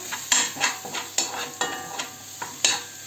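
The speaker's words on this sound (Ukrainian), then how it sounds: "Коли вже пересмажився томат, я даю чайну лишку муки. Оце перемішую." Spoon stirring a teaspoon of flour into fried tomato in a pan: repeated scraping strokes about every half second over a soft steady sizzle, close and alone.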